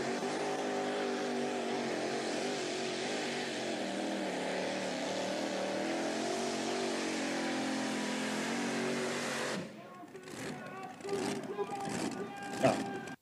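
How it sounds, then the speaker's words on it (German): A Chevy-powered pulling tractor roars down the track on its first pull, a loud, sustained engine drone that holds steady for about ten seconds, then cuts off into quieter crowd noise and scattered bursts. "Das war der allererste Pull vom Hot Chili und dann direkt so über die Bahn gefegt."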